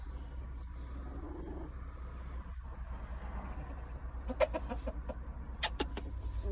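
A hen clucks in short bursts near the end, over a low steady hum; quiet at first, then several sharp clucks close by, after laying an egg among her chicks.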